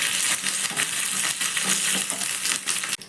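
Black mustard seeds and curry leaves dropped into hot oil for a tempering, giving a dense, steady crackling sizzle with scattered pops, close and continuous, without talk.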